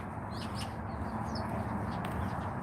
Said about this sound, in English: Oh, look at the birds. There are some birds there.